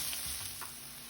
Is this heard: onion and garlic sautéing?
yes